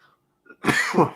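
A single close, loud cough, preceded by a faint breath, stands alone in a quiet room.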